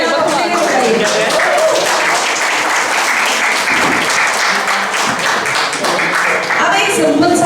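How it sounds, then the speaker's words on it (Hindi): Loud, sustained applause from a large audience at a creative workshop event, clapping for children, dense and continuous throughout with no gaps. "एक बार बहुत जोरदार तालियां बच्चों के लिए बजाइए"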